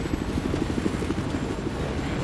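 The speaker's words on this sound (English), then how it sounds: "When you're flying a chopper" Helicopter in the video game Battlefield 4 during a Silk Road conquest match, a steady, dense rotor and engine drone with faint rhythmic chopping, loud and continuous throughout with no talk.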